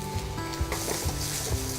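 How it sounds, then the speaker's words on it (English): Vegetables sizzle steadily in a hot pan, with occasional soft clinks and stirring knocks over the constant crackle. "So now I'm gonna start frying the vegetables."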